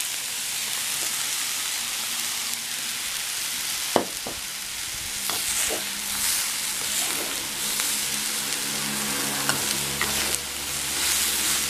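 A spoon stirs grated coconut through a pan of sizzling banana-stem and green-gram poriyal, with steady frying crackle and scraping strokes near and clear, plus a few sharp clinks against the pan.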